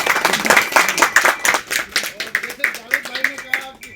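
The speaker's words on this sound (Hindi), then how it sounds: "मैं चाहूँगा आप सब फारूक सैयद जी के लिए 2 जोरदार तालियां बजाएं" Rhythmic clapping in the audience at a Mumbai trailer launch for the film 7/11 Mumbai Train Blast, a few loud sharp claps in a steady pattern with a voice talking over part of it.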